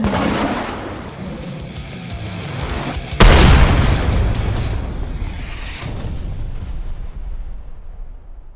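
An objective blows up in the Hired Ops video game with a sudden loud, booming blast that cuts into ongoing gunfire and rumble, then slowly fades away.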